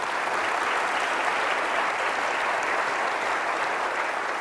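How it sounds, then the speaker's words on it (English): Sustained audience applause at a university author talk, a steady even wash of many hands clapping with no speech over it. "deserves a round of applause."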